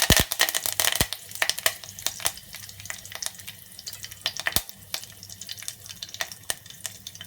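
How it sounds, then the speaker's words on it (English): Curry leaves hit hot oil with mustard seeds, bursting into a loud, dense crackling sizzle full of sharp pops, strongest at first and then settling into a steady spitting fry. "Then I'm adding the curry leaves."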